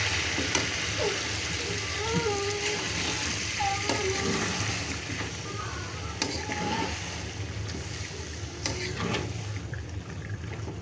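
Chicken pieces cooking with spices and a little water in a pan give a steady, dense sizzle and crackle throughout, with faint voices and occasional stirring sounds in the background.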